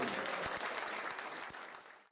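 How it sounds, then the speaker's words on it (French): Rugby stadium crowd applauding at a Fédérale 2 match between USCN and FC Lourdes, a broad, steady wash of clapping that fades slightly before cutting off abruptly at the end. "Je vous demande d'applaudir très fort, s'il vous plaît"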